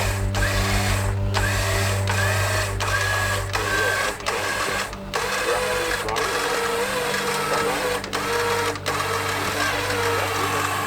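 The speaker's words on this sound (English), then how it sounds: "Winch at the same time, winch at the same time" Vehicle winch pulling cable during a snow recovery in the Vermont backcountry, a continuous loud mechanical whine and whir with a low steady drone running under it throughout.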